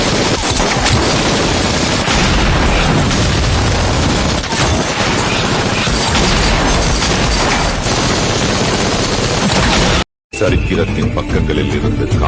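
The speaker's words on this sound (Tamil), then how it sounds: "துப்பாக்கி" Sustained gunfire rattles almost without pause, dense overlapping shots and bursts like a fusillade, loud and close, before a sudden brief cut to silence and a quieter tail.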